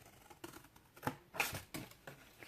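Scissors snip small wedges into paper for a papercraft piece, several crisp close cuts in an uneven rhythm with soft handling noise between them, no speech.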